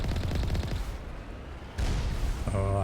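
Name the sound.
cannon fire in the video game Mass Effect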